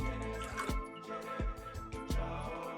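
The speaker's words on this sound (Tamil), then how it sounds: "இப்போ பால் அதில் சேர்த்துடலாம்" Milk goes into a heavy-bottomed pan while kulfi is being made, heard as quiet, spaced drips and small liquid plops. Four or five soft splashes fall at a loose, uneven rhythm with no talking.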